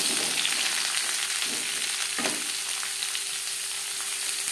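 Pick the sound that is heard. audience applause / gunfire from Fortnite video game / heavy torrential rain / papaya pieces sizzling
papaya pieces sizzling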